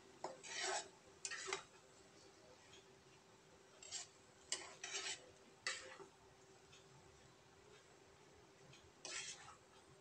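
Vegetable noodles with tomato and chili sauce being stirred in a pan, a few separate scraping and clinking strokes of a spatula against metal over a quiet background, with no voices.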